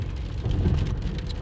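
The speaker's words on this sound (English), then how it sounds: "And now it's raining too" Steady rain falls outdoors beside a road, a continuous broadband hiss of drops hitting the surface with a low rumble underneath, close and fairly loud throughout, with no talking.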